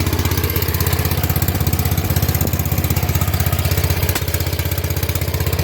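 A John Deere lawn tractor fitted with a 43C center blade runs close by, its engine chugging in a steady, rapid loud pulse with no pauses and no talk.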